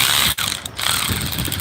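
A Snap-on cordless ratchet runs in a quick continuous whir with a brief pause, close and fairly loud, with no talking.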